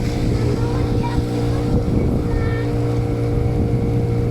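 A small motorboat engine in Senegal drones steadily nearby with wind buffeting the microphone and faint voices underneath.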